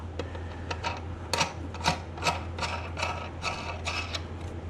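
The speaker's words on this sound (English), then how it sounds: "hopefully I can get the nut on there without problem." Wrench clicking as a nut is tightened onto a bolt on a wooden utility trailer frame, a series of faint sharp ticks and rasps over a low steady hum, fairly quiet and close.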